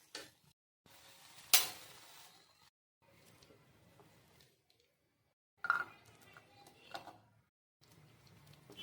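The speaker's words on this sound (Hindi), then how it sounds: "हमने चने को कढ़ाई से बाउल में ट्रांसफर कर लिया है।" Cooked black chickpeas scraped and spooned from a kadhai into a bowl, with a sharp metal clink early on, then scattered soft scraping and stirring clatter separated by brief pauses, fairly quiet and close.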